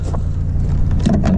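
An Opel Astra 1.7 CDTI diesel with a loss of power on a test drive: a steady low engine and road drone runs throughout at a constant level, with a brief mechanical whine near the end.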